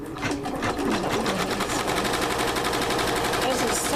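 An embroidery machine stitching onto a cap held in a Durkee hat hoop, heard as a loud, close, fast mechanical chatter that runs without a break.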